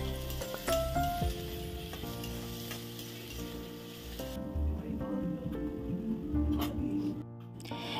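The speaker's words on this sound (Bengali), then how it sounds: "এইখিনি মই এতিয়া ভালদৰে ভাজি লম, মানে আদা নহৰু কেঁচা গোন্ধটো যোৱালৈ" Ginger garlic paste and chillies fry in a pan for an Assamese chicken curry, a steady close sizzle with occasional stirring scrapes and clinks against the pan.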